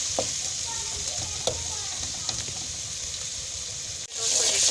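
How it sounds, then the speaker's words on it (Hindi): Masala fries in desi ghee for a turnip dish with a constant, close sizzle, faint stirring taps, and a brief dip before the sizzle swells again. "ये माशाल्लाह अच्छे से हमारा मसाला भून चुका है।"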